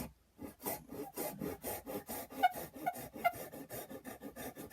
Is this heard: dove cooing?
no